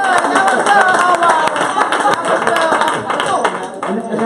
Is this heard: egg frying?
no